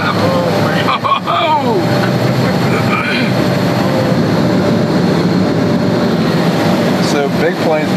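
Private jet accelerating down a runway for takeoff, a loud continuous roar heard from inside the cabin with rising whining tones and occasional rattles throughout.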